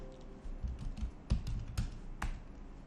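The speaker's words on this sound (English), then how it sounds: "I type in the first few characters of the folder name and then I hit on the tab button" Typing on a computer keyboard while coding a Python web app, with a run of soft, irregular key taps and a few sharper, louder clicks, close up and with no talking.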